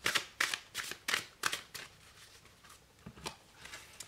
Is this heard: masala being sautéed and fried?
no